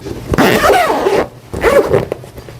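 The zipper on the carry bag of a cordless rechargeable grass trimmer is run closed in two close, quick rasping pulls, separated by a short pause.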